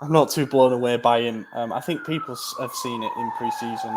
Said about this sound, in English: Excuse the siren there.